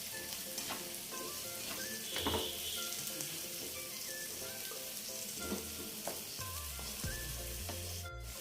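Cauliflower fries with onion and sesame masala in a pan, a continuous close sizzle broken by repeated scraping and clinking stirring strokes, with no one speaking.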